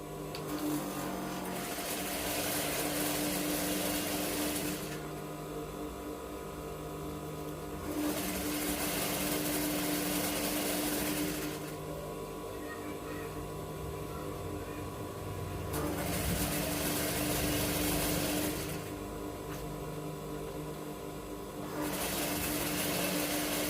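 A sewing machine stitching fabric for a butterfly boubou, running in long steady whirring bursts of a few seconds each, separated by short pauses, fairly loud and close.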